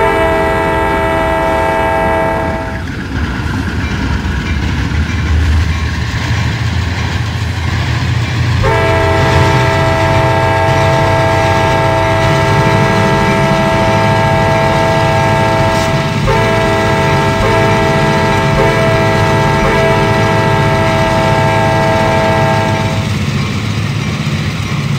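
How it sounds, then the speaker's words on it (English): A goods train rolls along a railway in video game style, a steady loud rumble of wagons with long sustained horn tones sounding twice over the run, no voices. "I better get going with my goods train."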